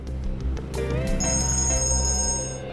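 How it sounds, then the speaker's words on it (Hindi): A phone rings with a bright electronic ringtone, a steady high-pitched tone sounding over a low background hum, fairly close. "एक मिनट, फोन आ रहा है।"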